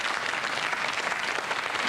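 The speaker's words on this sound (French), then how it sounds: "Bravo, on peut l'applaudir" Studio audience applause on a French TV talk show, steady dense clapping throughout, moderately loud and without speech.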